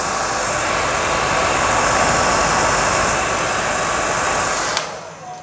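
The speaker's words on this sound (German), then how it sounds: "Ich zeige es euch jetzt mit meinem eigentlichen Föhn," A powerful hand-held hair dryer blows on curly hair with a loud, steady roar that holds for nearly five seconds before cutting off abruptly.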